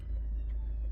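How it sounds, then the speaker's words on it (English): An ambulance siren sounds in the distance, a faint, steady wail under a low rumble of background noise with no one talking. "there's an ambulance"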